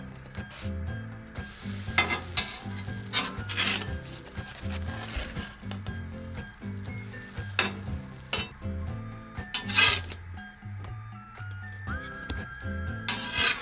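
Matcha black sesame pancakes sizzling steadily in a pan, with a bright, continuous frying hiss, a few sharper bursts as they are flipped, and soft background music.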